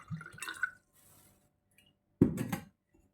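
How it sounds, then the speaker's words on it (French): Orange blossom water pours into a small glass in a short trickle near the start, then a brief louder splash or clink follows after a pause, close and fairly faint. "Maintenant je vais mouiller avec un peu d'eau de fleur d'oranger. On va prendre un petit verre comme ça."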